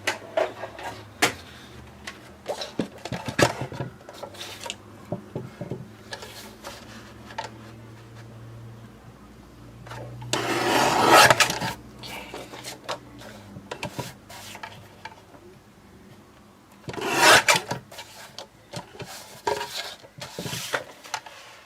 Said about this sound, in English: let's cut this down. And use the other trimmer.